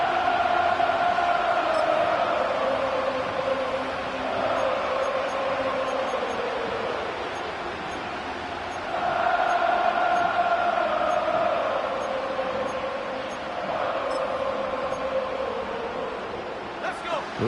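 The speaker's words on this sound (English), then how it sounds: "This crowd turning up the decibel level." Roaring football stadium crowd swelling in waves late in a game, a loud continuous wash of cheering and noise beneath a commentator talking over it.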